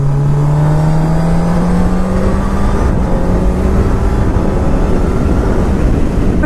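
A 2019 Honda CB1000R Plus motorcycle engine revs steadily higher toward 6,000 RPM, loud and close, a continuous rising drone that fills the whole stretch.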